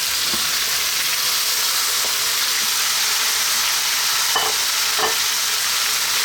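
Spinach frying in a pan with onions, garlic and herbs: a steady, close, even sizzle runs throughout, broken by a few light scrapes and taps as the greens are tossed.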